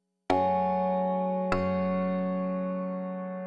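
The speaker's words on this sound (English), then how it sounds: "set of quantized sympathetic strings, and they sound like this." Quantized sympathetic strings from the Resonator module by Audible Instruments in VCV Rack, struck twice: a bright plucked chord rings out, is re-struck about a second later, then sustains and slowly decays alone.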